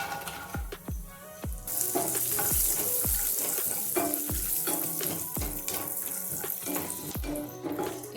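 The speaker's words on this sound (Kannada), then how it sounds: "ಈಗ ಗೋಡಂಬಿನ ಫ್ರೈ ಮಾಡ್ತಾ ಇದ್ದೀನಿ. ಈಗ ವಾಲ್ನಟ್ ಹಾಕ್ತಾ ಇದ್ದೀನಿ." Cashews and walnuts fry in a pan on low flame for dry fruit laddus, with steady sizzling throughout and repeated sharp knocks and scrapes of a spoon stirring against the pan.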